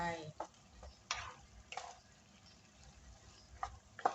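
Risotto with two cans of an added ingredient and their oil being stirred in a pan: quiet, sporadic scrapes and clicks of a utensil against the pan, a gentle sizzle underneath.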